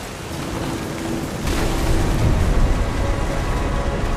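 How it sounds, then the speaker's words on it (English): Heavy rain pours steadily during a thunderstorm in What Remains of Edith Finch, with a low roll of thunder swelling midway and the downpour growing slightly louder and denser afterward. "The thunder sounded much too close and full of angry power."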